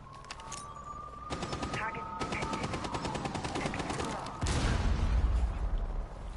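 Grenade and gunfire in a competitive esports match of Rainbow Six Siege: bursts of automatic fire and shots, then a louder, heavier blast near the end, under continuous commentary.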